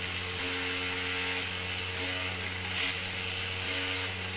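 Self-balancing two-wheeled inline gyroscope vehicle with its flywheel spinning at around 5,000 RPM, giving a steady, fairly quiet mechanical whine and hum with slight wavering.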